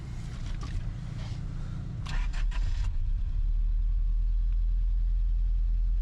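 An abandoned Batmobile car is cranked, with a low rumble and clicks giving way to a steady, close engine idle with a rhythmic low pulse.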